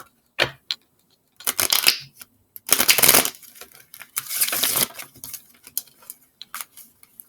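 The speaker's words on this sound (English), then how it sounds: "Shuffle that better." Tarot cards from a Beauty of Horror deck are shuffled in irregular bursts of papery riffling and slapping, close by, with brief pauses between handfuls.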